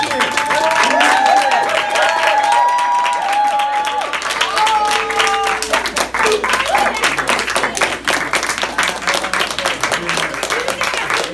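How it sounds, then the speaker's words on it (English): A gathered audience claps and cheers for the introduction of minister OJ Santiago, with dense sustained applause building into sharp rapid claps alongside whoops and voices, loud and close throughout. "Give him some cheering."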